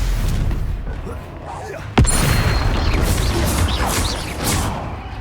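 A Confringo blasting spell in Hogwarts Legacy erupts as one sharp, loud explosion about midway, rising above a busy, noisy battle background.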